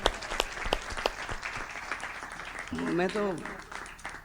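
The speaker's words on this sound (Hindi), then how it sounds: "यहाँ से लेकर और वहां तक हाथ उठाकर बजाओ ताली" Audience clapping at a Hindi comedy poetry show (hasya kavi sammelan), a scattered, modest patter of hands with a voice speaking briefly over it near the end.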